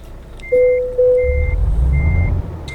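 A truck's reversing alarm beeps steadily in a truck-driving video game, several evenly spaced electronic tones over a low engine rumble, with no talking.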